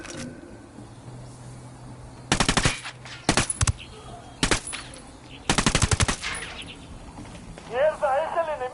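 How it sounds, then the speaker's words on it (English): Automatic machine-gun fire in Ghost Recon Wildlands, a few loud, close bursts of rapid shots separated by gaps, with shouting voices near the end. "I'm opening fire on these shitheads."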